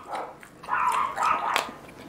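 A dog barks a few times at moderate distance, short sharp yelps spaced unevenly with faint background noise.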